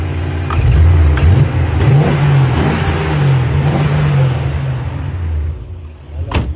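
A 2001 car with its original 5-litre petrol engine and manual gearbox revs hard and loud up close, the engine note rising and falling through several throttle blips across the whole stretch.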